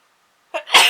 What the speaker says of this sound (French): Oh non, je vais éternuer,